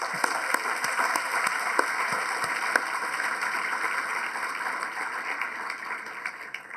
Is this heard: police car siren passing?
no